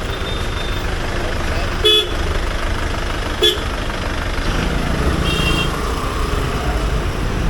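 Road traffic at a busy town junction below Jawahar Chowk in Rajapur, with vehicles diverted and horns honking in a few short blasts over a steady engine rumble.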